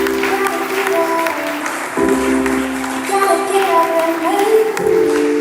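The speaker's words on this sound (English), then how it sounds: "Please keep clapping for him. Keep clapping for him." An audience claps for an honoree at a university ceremony, steady applause continuing under a voice talking through a public address system and some tonal sound.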